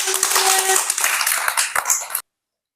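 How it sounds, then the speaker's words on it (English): Children in a class 2-3 lesson clap together in a brief, dense burst of many overlapping hand claps that stops abruptly after about two seconds. "Clap for this."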